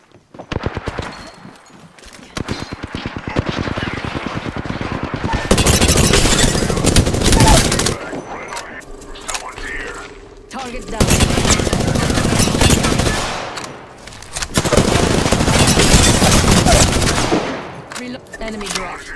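Video game gunfire with rapid machine-gun bursts and shots in loud, dense volleys separated by brief lulls, with a voice talking through parts of the action.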